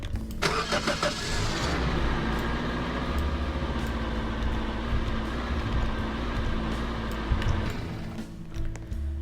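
A truck engine in the Roblox game Lumber Tycoon 2 cranks and catches, then settles into a steady mid-pitched running hum for several seconds before cutting off, close and moderately loud with no talking.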